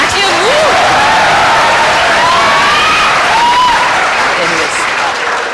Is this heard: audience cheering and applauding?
yes